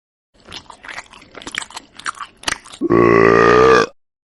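A burger is bitten and chewed in a series of close, crunchy bites and wet munching sounds, followed by a loud, drawn-out burp-like grunt at the end.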